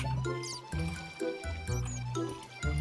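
Lava poured into water in the video game Minecraft makes soft liquid splashing and dripping sounds, quiet and intermittent, over a steady background of game music.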